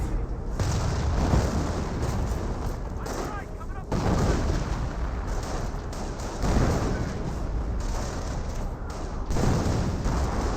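A Nebelwerfer rocket artillery barrage in Company of Heroes pounds away in repeated heavy booms and crackling blasts, dense and continuous, with a voice talking over the bombardment.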